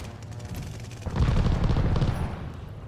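Enemy strafing gunfire in the Call of Duty Vanguard video game. A dense, loud rumble of rapid shots and booms swells partway through and holds steady over continuous background battle noise, with no voices.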